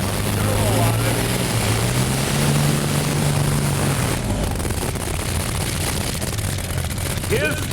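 A turbocharged pulling tractor on Firestone tires with a titanium clutch roars at full power at a truck and tractor pulling competition in Austin, a loud, sustained engine howl with a shifting whine, continuous throughout.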